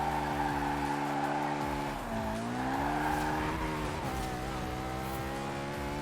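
Tires squeal loudly throughout as a car drifts in the Forza Horizon 4 racing game, the sustained screech bending in pitch over a steady engine drone, with no talking.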